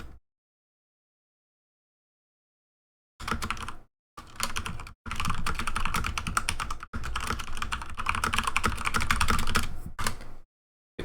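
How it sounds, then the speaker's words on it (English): Loud computer keyboard typing during a mobile shooter match, in dense rapid bursts of clacking keys separated by short pauses, close and alone with no talk. "Get to hear my loud keyboard and typing skills."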